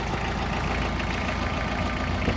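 A Mitsubishi MT245 mini tractor engine idles steadily nearby with a smooth, low, even rumble and faint knocking, unchanging throughout.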